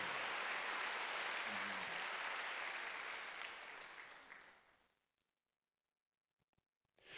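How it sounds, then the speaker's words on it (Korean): A church congregation claps together at a Wednesday worship service, a dense, steady applause that holds for several seconds, then fades out and stops, leaving near silence with a few faint stray sounds at the end. "박수 한번 주세요."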